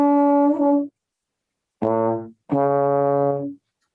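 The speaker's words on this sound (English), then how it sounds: "An example would be just going from a 1 to a third. Okay, so that would be like this, just standard on trombone." Trombone playing a plain line moving from the root up to the third: one sustained note, a pause, then two more held notes close by, loud and clear with no talking.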